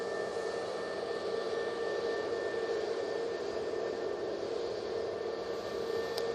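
A large jet airliner climbs out of Manchester Airport, a soft, steady distant rumble with a thin sustained engine whine on top, no voices present.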